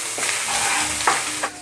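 Dried red chillies, chopped ginger and garlic with a pinch of salt fry in a little oil in a wok, a steady close sizzle broken by a few scraping stirs.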